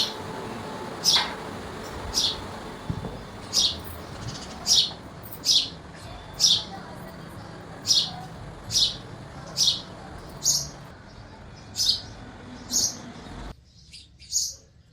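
A bird repeats a clear, high chirping call at regular intervals, a dozen or so notes in steady rhythm, among coconut trees on a morning with a low background hum.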